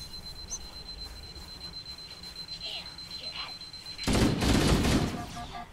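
Gunfire in the video game Halo: Combat Evolved Anniversary, a burst of loud rapid shots that breaks out suddenly near the end after a stretch of quieter game ambience.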